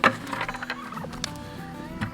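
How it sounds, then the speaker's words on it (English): A bronze turkey gobbles close by on a farm, a rapid, warbling burst followed by a few shorter clucks and rustles. "oh, there's a turkey blocking the way"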